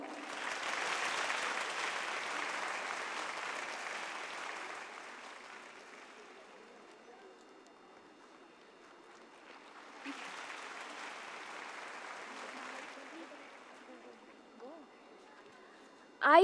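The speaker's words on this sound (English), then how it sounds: "Let's give her a big round of applause." Audience applause at a school annual day function, a sustained burst of clapping that fades out and then rises again for a second shorter round, fairly distant and without talk.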